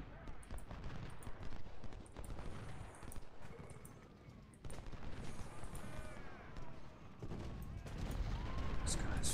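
Dense, continuous battle gunfire from the Ultimate General: Civil War game at Perryville, musket volleys and artillery crackling throughout with a few brief gaps, while a voice talks over the din.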